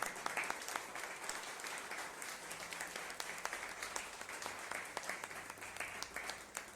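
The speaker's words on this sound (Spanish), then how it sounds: "Dale ese aplauso al Rey." A church congregation applauds during a Spanish-language sermon, with dense, steady clapping that fills the room at moderate distance and stays even throughout.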